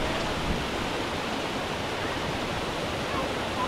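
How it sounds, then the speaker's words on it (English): Hot spring waterfall pouring steadily, a continuous broadband rush of falling water with no breaks, close and fairly loud throughout. "It's like a hot springs waterfall"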